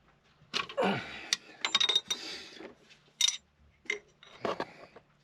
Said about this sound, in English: this one you got to get 2 wrenches on